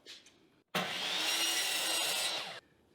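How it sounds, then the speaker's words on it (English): A miter saw rips through a wooden board in one sustained cut of about two seconds, loud and close, starting abruptly and stopping cleanly with quiet shop air on either side. "Now let's rip those on the miter saw."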